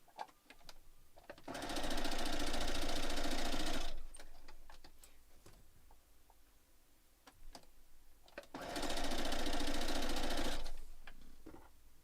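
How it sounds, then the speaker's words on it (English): A sewing machine stitches quilt blocks in two separate bursts of steady, fast mechanical whirring, each lasting a few seconds, with soft clicks and handling sounds in the pauses between them. "let's sew them."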